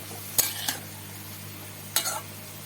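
Banana stem and shrimp seasoned with turmeric frying slowly over medium heat in a pan: a couple of sharp spoon scrapes and clinks stand out over a faint, steady background sizzle, with no voices.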